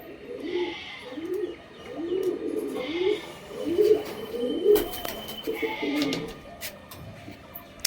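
Pigeons in a loft coo in a steady run of soft, repeated low phrases, fairly close and mostly alone, with faint rustling in between.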